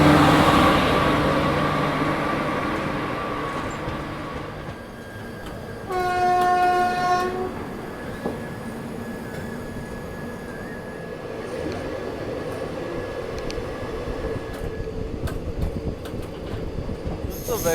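The Sabari Express passes close by, its wheels and cars roaring at first, then fading. A loud, sustained horn blast follows midway, and faint rail squeals and rumbling continue afterward, with no voices heard.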